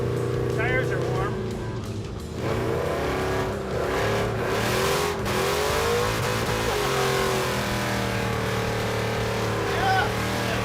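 A V8 muscle car drives around cones with a loud steady engine drone and changing revs from inside the car, voices talking over it.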